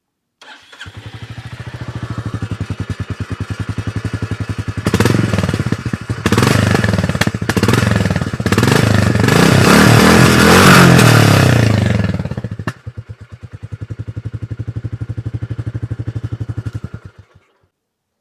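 Royal Enfield Classic 350 motorcycle exhaust thumping at a steady idle up close, rising into several loud revs in the middle before settling back to the even single-cylinder beat and cutting off.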